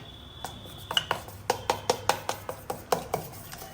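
Rhythmic clinking of a spoon against a bowl while mixing batter with water, a dozen or so quick taps in a steady beat, close up and fairly quiet.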